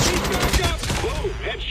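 Rapid gunfire from Call of Duty Mobile rattles in a quick burst of sharp shots, followed by a voice shouting over the game sounds.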